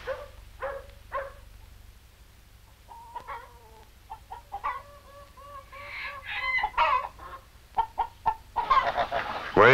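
A flock of backyard hens and a rooster cluck steadily at feeding time. Short bursts of clucks build in density and loudness, with crowing-like calls mixed in and a low hum underneath.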